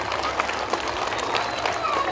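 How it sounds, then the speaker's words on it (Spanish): A crowd at an environment week event claps to welcome a guest, a brief, dense burst of applause with mixed voices underneath. "vamos a recibir con un fuerte aplauso a Herón Vargas Salcido"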